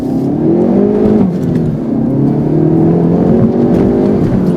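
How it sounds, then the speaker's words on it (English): A 2019 Hyundai Veloster N engine revs and pulls hard as it accelerates in sport mode, pitch climbing steadily with a brief dip as it shifts, loud and close throughout. "I can feel the car accelerate a little bit better."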